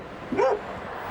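A single short dog vocalisation, a bark-like yip with a rising and falling pitch, heard once at moderate distance against a faint background hum and no other clear sounds.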